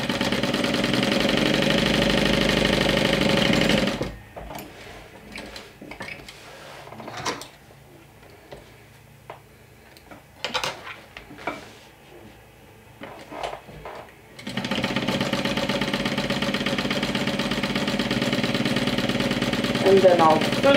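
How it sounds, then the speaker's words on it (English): Sewing machine running at speed while stitching the side seams of a crossbody saddle bag, loud continuous whirring for several seconds, then a quieter stretch of clicks and handling noises, then steady stitching again. "So let me stitch the side seams."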